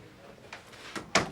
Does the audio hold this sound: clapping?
no